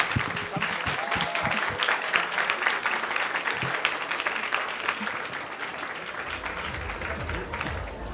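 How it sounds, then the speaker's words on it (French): An audience claps steadily throughout at a student award ceremony at the Cannes Film Festival, the broad, dense applause holding fairly constant with no voices standing out. "je souhaite déjà qu'on vous applaudisse pour votre participation et votre engagement"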